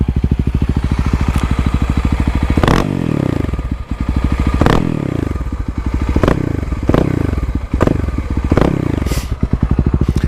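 A Kawasaki KLX351 dirt bike with its secondary throttle blade removed runs loud and close, its single-cylinder engine chugging steadily with repeated sharp throttle blips and rough, uneven idling between them, plus occasional clatter.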